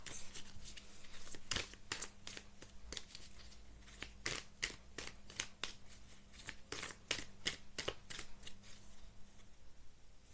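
Tarot cards shuffled by hand in a quiet room, a run of crisp riffling flutters and snaps repeating in an uneven rhythm, close and fairly soft, with no talk.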